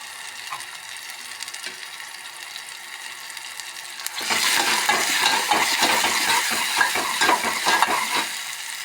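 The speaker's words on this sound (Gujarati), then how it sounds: "ટમેટાં હવે સોફ્ટ થઈ ગયા છે ગાઈસ, એટલે આ બધો વઘાર છે એ હું ડાયરેક્ટ દાળમાં નાખી દઉં છું" Tomato tempering for dal sizzling in a pan, quiet at first, then a loud crackling sizzle with rapid stirring scrapes for the rest of the time, close up.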